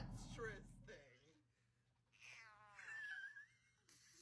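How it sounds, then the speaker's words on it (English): A cat meows a few times, short wavering cries at modest level, with a person talking over parts of it. "That's a cat."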